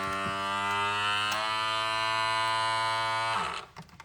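A vacuum sealer seals a bag of soup, giving a steady close mechanical buzz that holds for a few seconds and then cuts off, followed by faint handling noises.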